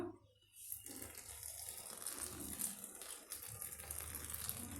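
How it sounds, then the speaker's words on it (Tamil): Warm water pours steadily into chapati dough for several seconds in a continuous splashing stream, with faint rattling underneath and no talking. "வெது வெதுப்பான தண்ணியை வந்து சேர்த்து விட்டுக்கலாம்"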